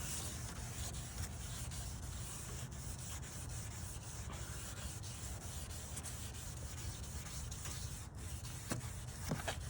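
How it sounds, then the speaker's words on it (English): Steady, close abrasive rubbing as a headlight lens is wet-scrubbed back and forth with a Cerakote ceramic headlight restoration kit, a continuous gritty swish with no talking. "you're just going to scrub in a non-circular motion back and forth"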